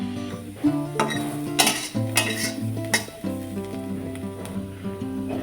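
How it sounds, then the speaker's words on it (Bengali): Chopped carrots fry with a little salt in a pan for fried rice, a soft sizzle broken by repeated scraping and clinking strokes of a spatula against the metal, close and fairly loud with no talking. "এইবার আগের থেকে কেটে ধুয়ে রাখা গাজরগুলো ভেজে নেব"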